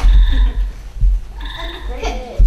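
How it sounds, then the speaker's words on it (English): Gray tree frog call played at a library aquarium presentation: two bursts of a high, trilled, pulsing call separated by a short gap, with faint low background noise. "That's a gray tree frog."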